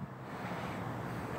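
Steady wind buffets the microphone outdoors, producing a continuous low, broadband rush at moderate loudness. No voices or other distinct sounds break through.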